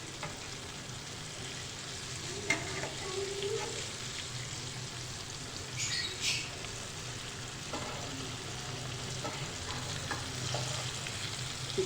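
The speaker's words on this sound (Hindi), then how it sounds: "तमाम टेंडर्स जो हैं चिकन के हम ये साइड चेंज करके अब फ्राई करेंगे" Chicken tenders fry in hot oil with a soft, steady sizzle and occasional crackles and light clinks as they are turned, continuous and moderately quiet with no talking.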